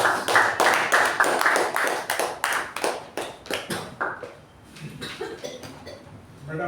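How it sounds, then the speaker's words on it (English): Toastmasters meeting audience claps in a quick, fairly sparse round of distinct hand claps that thins out and fades after about four seconds, leaving a few scattered claps. "Please give a huge round of applause."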